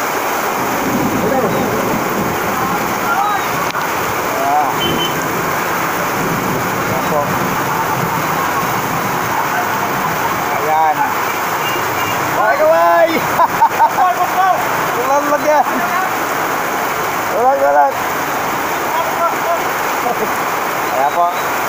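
Floodwater rushes into a residential street during heavy flooding, a continuous broad wash of flowing water with splashes and gusty wind noise, while someone talks over it.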